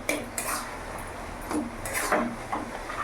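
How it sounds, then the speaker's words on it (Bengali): A metal spatula presses and stirs a thick bottle gourd curry (lau ghonto) in a pan over a gas flame, making repeated scraping clatters in an irregular rhythm over a steady background roar. "এইভাবে একটু খুন্তিতে করে ঠেসে ঠেসে দেবো, যাতে একটু গা মাখো মাখো হয়।"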